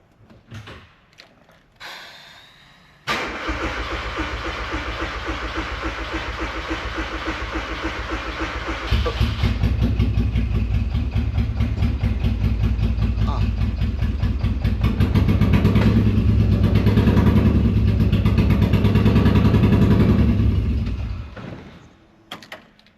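A Ford Fiesta engine, unrun for eight years, cranks and catches, then runs roughly at a steady idle that grows louder and rougher before cutting off near the end.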